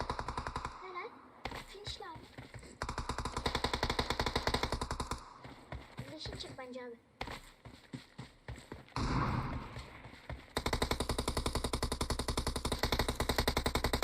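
Rapid bursts of automatic gunfire from PUBG Mobile, a battle royale shooter, clatter in loud repeated volleys with brief pauses, while players talk over the shooting.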